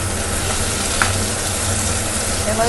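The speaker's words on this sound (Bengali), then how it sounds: "পেঁয়াজ, রসুন, আদা আর লঙ্কার যে পেস্ট আমি করেছিলাম সেই পেস্টটা আমি এখন এখানে দিয়ে দেবো" Onion, garlic, ginger and chilli paste frying in a pan for an egg curry, giving a steady, close crackling sizzle throughout with a faint clink partway.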